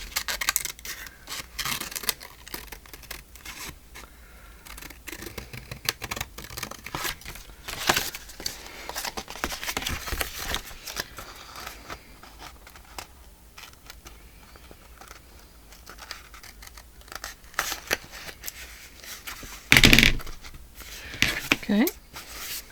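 Scissors snip through a gold vanilla paper file folder in repeated short crisp cuts, with rustling paper handling in between, beneath a person talking.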